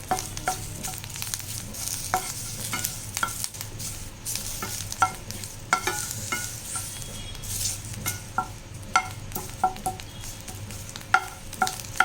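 Curry leaves and spices dry roast in a pan for rasam powder, a low continuous crackle under frequent sharp scrapes and taps of a spoon stirring against the pan.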